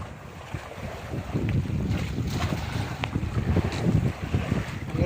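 Ship engines at sea on the Pacific Ocean, a steady low rumble mixed with wind buffeting and the wash of waves, loud and continuous with no talk.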